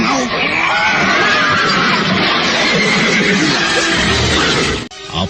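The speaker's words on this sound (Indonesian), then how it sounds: "kuda-kuda yang mereka tunggangi menjadi tak terkendali dan berlarian menjauh" Spooked horses neighing loudly and running off in a chaotic scene, with whinnies over a dense, noisy mix of commotion that cuts off abruptly near the end.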